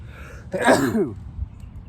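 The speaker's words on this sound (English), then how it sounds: "I got to sneeze." A single sharp sneeze bursts out close by after a short inhale, then quiet.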